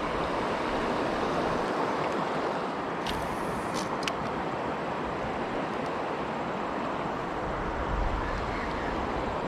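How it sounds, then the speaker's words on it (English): Steady rushing water from small river rapids near an old bridge area, a constant broadband roar with no pauses and a couple of faint brief clicks partway through. "got little rapids coming in here, rapids coming in there"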